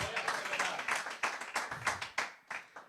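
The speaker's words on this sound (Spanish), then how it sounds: "Vamos a dar un aplauso al Señor" A church congregation claps together at a steady, rhythmic pace, the close hand claps landing in regular bursts with a few voices faintly mixed in.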